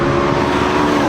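A McLaren 12C races hard around the Thermal track, its engine a loud, dense roar with a faint shift in pitch as it blasts past nearby during a brief, continuous burst.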